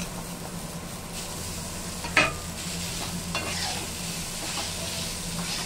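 Snake gourd dropped into a hot wok with garlic and dried chilies, giving a steady close sizzle with a sharp clatter near the start and soft stirring scrapes throughout, no voices.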